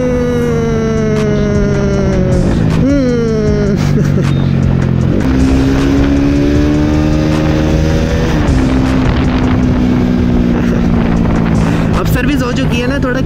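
A Bajaj Pulsar RS 200 motorcycle engine revs up close and loud, its tone sweeping upward in several rising pulls before settling into a steady high drone.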